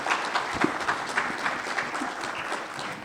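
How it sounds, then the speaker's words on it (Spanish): An audience at a science-and-faith lecture session applauds a doctor being introduced, giving a brief burst of many hands clapping together that stays fairly even for about three seconds. "el doctor Maximiliano Martínez Bojórquez, para quien pido un aplauso"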